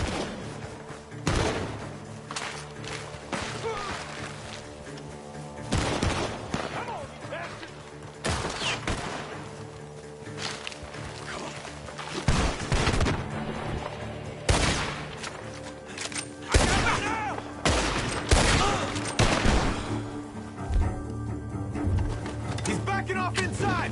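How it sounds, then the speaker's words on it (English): Repeated gunfire cracks out in irregular bursts from a barn in Red Dead Redemption 2, over a continuous background hum, with occasional voices mixed in. "The gunshots are coming from that barn."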